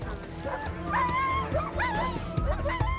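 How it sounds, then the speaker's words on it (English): Sled dogs waiting before a race yip, whine and bark in excited, overlapping bursts close by, a restless chorus of high whimpers and short barks. "The dogs start to feel the excitement. They're ready to race."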